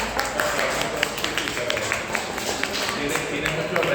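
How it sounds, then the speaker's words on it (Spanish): Classmates applaud after a student presentation on antibiotics: a steady, dense patter of many hands clapping in a room, lasting several seconds, with faint voices underneath. "Un aplauso."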